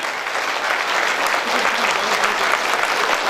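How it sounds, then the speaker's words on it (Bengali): A conference audience on its feet applauds loudly and continuously, a dense, steady wash of many clapping hands with no talk on top. "এই 2 জনের ধরে দাঁড়িয়ে আমরা তুমুল করতালি, তুমুল জোরে করতালি চাই"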